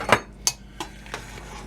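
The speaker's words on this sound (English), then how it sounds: "and then we'll stir it around" A spoon knocking against a pot of seafood étouffée with crawfish, four metallic clinks spaced about a third of a second apart and fading from close and sharp to softer, with no talk.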